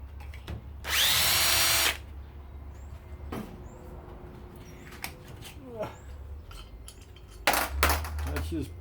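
A power drill whines loudly in two short bursts while backing Phillips screws out of a power washer motor housing, with light clinks of loose parts and a voice talking between bursts.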